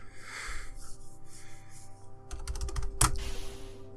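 Fast, close clicking of keys being typed on a computer keyboard during a hacking game, starting after a quieter stretch and ending in a sharp key strike.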